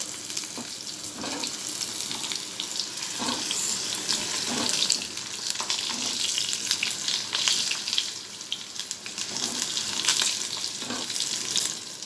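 Okra frying in a pan for a home-style fish curry, a steady close sizzle and crackle of oil that runs continuously, with occasional stirring scrapes and bumps breaking through the hiss.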